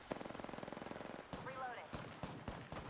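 Rapid automatic gunfire from an Apex Legends ranked match rattles in a fast, even burst for over a second, then gives way to scattered single shots and game effects, with voice callouts running over it.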